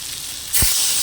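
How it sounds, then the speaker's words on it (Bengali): Water poured into a hot pan of fried lentils and potato sets off a sudden, loud burst of sizzle and steam hiss midway through, after a quieter background crackle. "এবার আমি পরিমাণ মতো জল দিয়ে দেবো"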